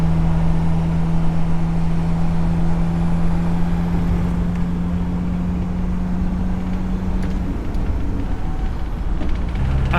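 A Volkswagen TDI Vanagon cruises along a road in Oklahoma, its diesel engine droning steadily from inside the cabin with a constant low hum and road rumble and no talking.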